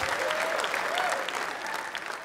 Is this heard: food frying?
no